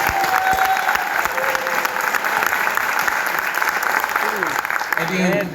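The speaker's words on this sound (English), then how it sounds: "we still gonna give a hand clap for him" Audience applause at a graduation celebration, steady dense hand clapping filling the room throughout, with some voices mixed in near the end.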